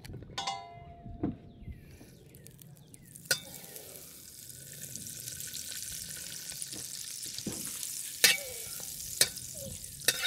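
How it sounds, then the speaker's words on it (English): Butter melts in a pan over medium heat while a sauce is started, giving a soft, building sizzle that thickens over several seconds, punctuated by a few sharp clinks and taps of a utensil near the end. "Then I put some butter in it."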